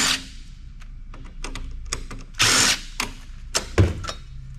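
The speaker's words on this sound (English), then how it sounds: "the first thing we gotta do is get some screws off of here. Now I've got my brand new number 2 Phillips head in here." A power drill fitted with a number 2 Phillips bit removes screws from a UPS battery unit, with ratcheting clicks, short whirring bursts and clattering handling noises nearby.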